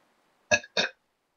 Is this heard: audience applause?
no